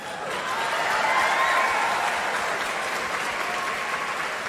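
An audience at a spiritual talk in Kurnool applauds in a continuous, even roar of many hands, rising slightly at the start and holding steady, fairly loud and close, with no speech over it.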